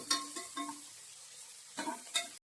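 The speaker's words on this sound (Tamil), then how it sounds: "வெங்காயம் கொஞ்சம் பொன்னிறமாக வதங்கட்டும்." Soft sizzling of onions sautéing in oil in a pan, with a few stirring scrapes and clinks, quiet and close.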